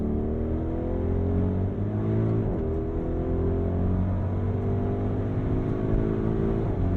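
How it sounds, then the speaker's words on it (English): A 2023 Audi RSQ8 engine pulls hard under acceleration, a steady deep drone with rising harmonic tones and a brief shift near the middle, heard from inside the cabin with no talking. "the sound of that engine woke up"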